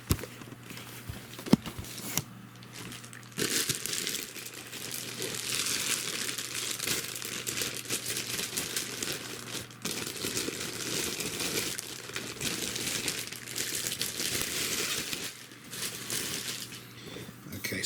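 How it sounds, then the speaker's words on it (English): A long plastic bag is pulled off a desk lamp, giving a sustained close crinkling and rustling with a brief soft pause before the bulk of the noise. "I've just pulled the long plastic bag off of this"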